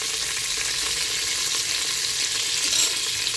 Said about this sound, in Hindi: तो इसको हम सुनहरा गोल्डन फ्राई कर लेंगे काजू बादाम।